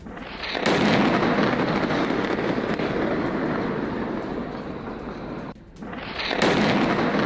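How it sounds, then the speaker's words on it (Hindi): Airstrike explosions in Dahiyeh: a sustained loud, rumbling roar that runs for several seconds, briefly drops away, then swells again near the end, with no talk over it. "ये जो धमाका है, बारूदी धमाका जो आप देख पा रहे हैं, किस तरह से एक बड़ा आग का गोला बनता है।"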